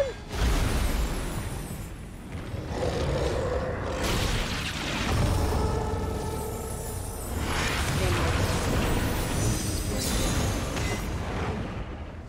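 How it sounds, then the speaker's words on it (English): A large explosion in Final Fantasy XIV: Endwalker, with booming, rumbling bursts through the stretch, heard under game dialogue and voices talking throughout. "Explosion!"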